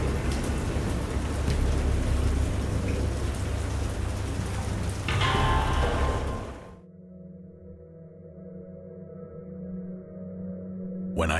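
Heavy rain pours in a storm with rumbling thunder, a dense, loud roar for several seconds that cuts abruptly to a quieter, lower hum near the end.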